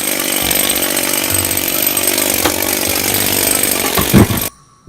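An air-hammer-powered makeshift weapon running at 90 psi, a loud rapid rattling hammering sustained for about four seconds before cutting off abruptly into near silence.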